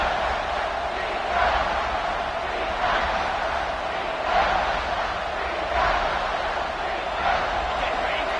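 A video game stadium crowd in CFB 26 college football roars in a sustained, swelling wall of noise, loud and continuous with faint surges.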